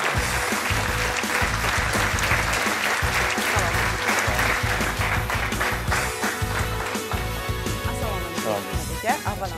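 Loud, sustained applause from a studio audience at a startup TV show, dense clapping filling the whole stretch with a few voices mixed in.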